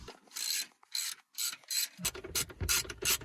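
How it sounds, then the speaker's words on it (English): Torx T40 seat bolts being undone inside a Vauxhall Zafira B: a series of quick ratchet clicks in short bursts, close and fairly clear, with some metallic rubbing between strokes and no talking. "We've got 2 T40 bolts, one on this side and one on that side over there. So go ahead and remove both of them."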